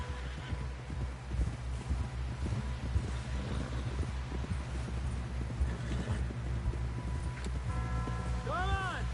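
Horse hooves clip-clopping in Red Dead Redemption 2 as a rider pushes toward a camp, steady rhythmic beats over wind and a low rumble, with a brief whinny-like tonal call near the end.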